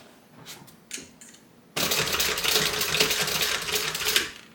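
A sewing machine stitches down a tote bag seam, starting abruptly after a quiet pause and running steadily and fairly close at an even, moderate pace until the end, with faint handling noises before it starts.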